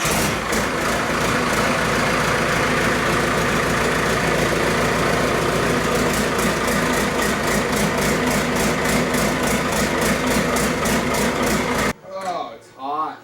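A Cummins 4BT diesel engine runs steadily with a loud, rough, rattling idle that fills the scene before cutting off near the end, when a voice speaks briefly.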